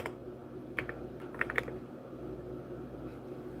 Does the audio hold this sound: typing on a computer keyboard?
yes